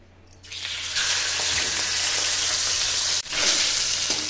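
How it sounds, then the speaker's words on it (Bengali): A hilsa fish head frying in hot oil in a pan: a loud, continuous close sizzle that surges as the fish goes in, with brief clatter partway through and no talk. "ইলিশ মাছের মাথাটা ভালো করে ভেজে নিয়েছি"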